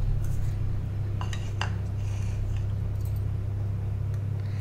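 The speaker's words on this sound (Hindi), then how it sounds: "ये हमने दो अंडे लिए हैं, इनको हम कटोरी में ही फोड़ेंगे एक एक करके अलग से।" Two eggs are cracked one at a time into a small bowl for egg Maggi, giving a few brief sharp taps and clicks over a steady low kitchen hum.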